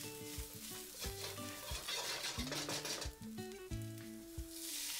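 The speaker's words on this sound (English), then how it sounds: "fry the masala for about 1 minute" Garam masala and fennel powder fry on a low flame, a quiet, continuous sizzle with bubbling crackle, while soft music plays over it throughout.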